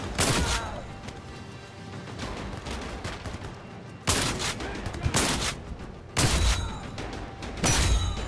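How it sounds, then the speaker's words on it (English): Sharp, loud gunfire bursts for a headshot in the VR shooter Zero Caliber: Reloaded, set in a forest with WW2 weapons; four distinct cracking volleys stand out against a quieter combat background. "I think this is a new sound effect for the headshot"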